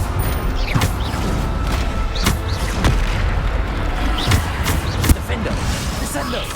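Repeated booming blasts from the Bombarda spell in Hogwarts Legacy, several sharp bursts spread across a few seconds amid dense game noise, with a voice shouting over them.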